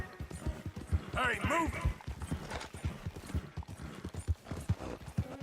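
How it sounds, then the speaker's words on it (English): Horse hooves clip-clopping in a steady trotting rhythm while riding in the video game Red Dead Redemption 2, with someone talking over the hoofbeats and a brief whinny-like tone early on. "I can never get tired of riding my horse around."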